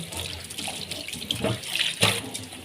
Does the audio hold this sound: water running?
yes